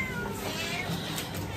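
A shelter cat meows softly in short repeated calls, fairly close but quiet, with no talking over it.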